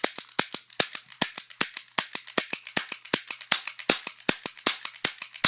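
Rapid volley of sharp toy cap gun bangs, close and loud, firing repeatedly in quick irregular succession with no talk over them.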